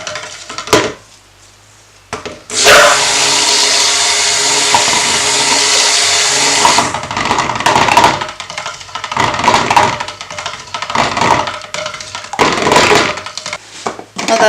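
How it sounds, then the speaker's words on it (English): A stick blender whirs loudly and continuously for about four seconds as it blitzes cold process soap batter, followed by clattering and scraping of the blender against the container. "I'm just going to mix this and give it a little"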